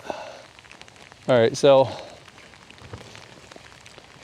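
Rain comes down hard and spatters onto a camera lens in a faint, steady patter, with someone briefly talking partway through.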